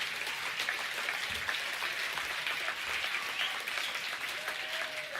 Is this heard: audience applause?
yes